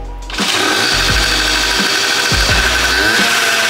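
A Nissan Z car engine cranks and catches, then runs steadily and loud, with a rough, uneven idle and a few irregular low thumps under a broad, buzzing mechanical roar.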